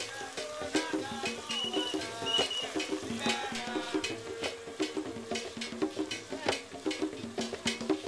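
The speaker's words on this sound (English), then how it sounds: "Add chili and garlic paste and sauté for 1 to 2 minutes." Onions sautéing with chili and garlic paste in a pot for jollof rice: soft sizzling beneath irregular scraping and stirring knocks of a utensil, close and moderately quiet, with no talk.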